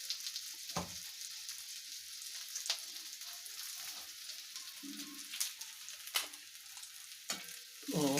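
Onions and bay leaf sizzle in a frying pan for a rohu fish and tomato curry, a steady soft crackle close by, broken by a few sharp stirring clatters of the spoon.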